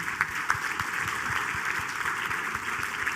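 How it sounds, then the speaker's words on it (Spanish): Applause from a church congregation during a sermon, a steady broadband clapping wash with some distinct nearer claps, fairly faint and continuous throughout without talk. "Denle un aplauso al Señor por la vida de estas personas."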